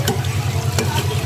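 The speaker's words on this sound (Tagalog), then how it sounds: "So, haluin lang natin ito." Pinakbet vegetables stirred in a pot, a close, continuous sizzling bubble with soft scraping strokes, brief and without talk.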